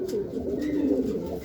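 Racing pigeons at the loft after a 299 km North Derby race from Candon, Ilocos Sur to Pasig City, cooing in a steady, close, low murmur that continues throughout with no talking.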